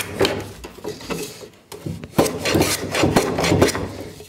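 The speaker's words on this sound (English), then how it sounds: "Now I need to take all of my slats and shoot the ends" A hand plane shoots the end grain of wooden deck chair slats. Close, rhythmic rasping strokes come in quick bursts, with a brief pause before a faster series of cuts.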